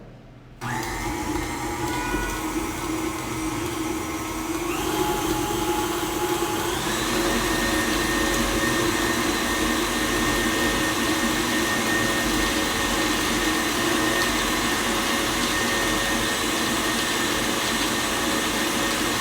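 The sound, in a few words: electric mixer beating cookie dough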